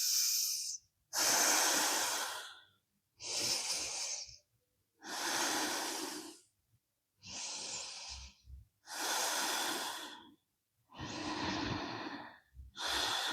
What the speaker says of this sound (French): respiration dynamique ici.